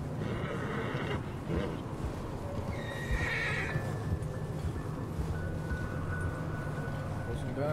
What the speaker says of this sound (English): Poor horses, man. They're struggling.